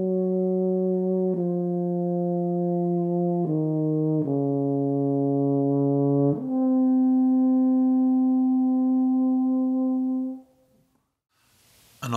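A mellow euphonium tone, bell turned away from the microphone, holds a series of sustained notes that step between pitches, ending on one long note before it fades to near silence.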